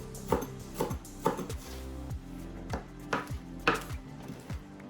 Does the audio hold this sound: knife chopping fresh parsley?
yes